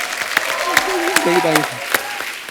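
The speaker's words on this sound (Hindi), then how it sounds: "जोरदार तालियां मिलाप के लिए।" A studio audience on a comedy talk show applauds a guest film director, a steady bed of clapping with a few sharp claps standing out while a voice talks over it.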